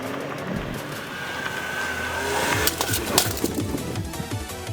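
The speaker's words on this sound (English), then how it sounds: "With everything set up, I just need to rev up the engine and begin the experiment." A car engine revs and drives off during a homemade crash test, with tires skidding. Broadband engine roar builds steadily, then loud impact-like bursts follow near the end. No talking.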